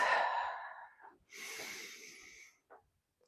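Heavy breathing from someone marching in place during a workout: a long, loud exhale, then a strong hissing breath and a short final puff, close up with no talking.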